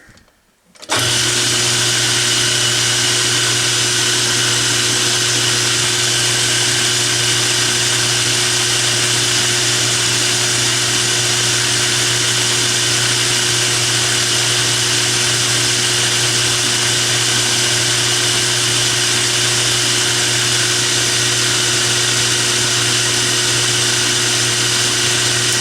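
Machine making final cuts on the end of a metal part for a broken log splitter, a steady loud motor whine with constant humming tones, unbroken throughout after a brief start.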